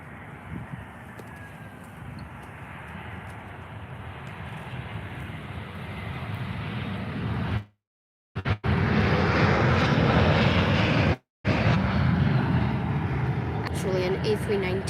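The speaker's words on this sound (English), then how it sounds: "Here comes the EasyJet" An EasyJet Airbus A319 airliner at Faro Airport roars in a steady, broad jet rumble that grows louder partway through, with brief cut-outs, and a voice speaks over it.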